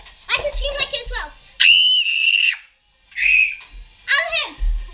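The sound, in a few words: child imitating a girl's scream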